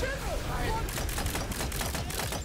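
Gunfire from a weapon in the Tiny Tina's Wonderlands video game, a dense run of rapid shots crackling over a busy, noisy battle bed throughout, loud and continuous.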